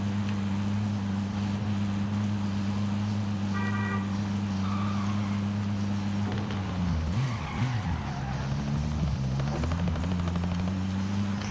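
A drone in Call of Duty Warzone flies overhead, a steady loud buzzing hum with strong low tones that shifts and warbles midway, heard alone.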